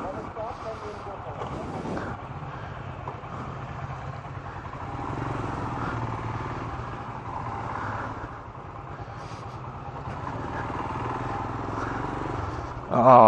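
Motorcycle riding on a road toward Delhi, a steady close engine drone with wind rumble throughout, and people talking over the noise.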